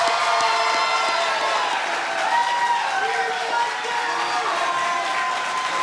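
A debate audience cheers and applauds the state attorney candidates, a dense steady wash of crowd noise with clapping and whoops throughout, voices mixed in.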